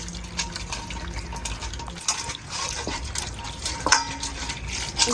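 Water poured and splashed while a hilsa fish and its gills are washed in a kitchen, close splashing and trickling with faint clinks of a pot.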